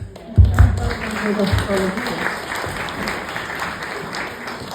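Audience at a charity's tenth-anniversary celebration clapping, a moderate burst of applause that rises, then thins and fades, with a voice talking over the start.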